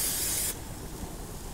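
Spray oil misted onto ciabatta bread for a steak sandwich, a close, steady hiss lasting about half a second before cutting off to quiet room tone.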